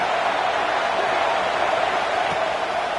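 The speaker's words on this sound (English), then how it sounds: "This crowd ready to make its presence known" Steady roar of a large stadium crowd at a Utah versus Tulane college football game, a dense continuous wash of voices holding at one level throughout, with no distinct individual shouts standing out.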